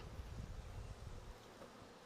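Honey bees buzz in an open hive as gentle smoke puffs are blown between the frames, a dense low hum that stays steady and close before thinning slightly toward the end.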